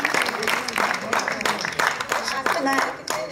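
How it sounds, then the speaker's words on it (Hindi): An audience claps at a golden jubilee musical evening concert, a lively patter of hands that rises and dips under a voice speaking over it. "तालियां तालियां तालियां तालियां"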